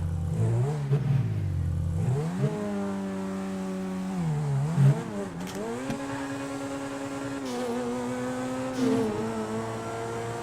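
Car engine in Grand Theft Auto V revving hard for a perfect launch, rising and falling in pitch as it climbs through gears, loud and continuous with no talk.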